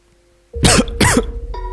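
Two loud, harsh coughs in quick succession, very close, after a moment of near silence.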